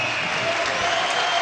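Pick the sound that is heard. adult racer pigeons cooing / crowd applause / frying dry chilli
crowd applause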